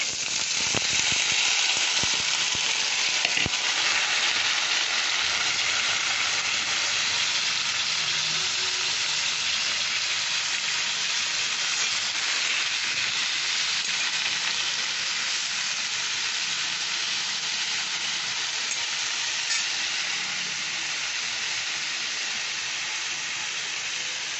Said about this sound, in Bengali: আর একটা শুকনো লঙ্কা দিলাম দুটো কাঁচা লঙ্কা দিয়ে দিলাম আর ছোটো ছোটো করে কাটা আলুগুলো দিয়ে দিলাম